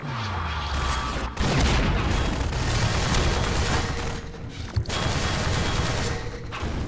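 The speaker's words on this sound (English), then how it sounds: "I'm getting shot, bro." Dense, loud gunfire in Half-Life 2: Episode 1, with sustained bursts and crashing impacts that barely let up over several seconds, heard without speech.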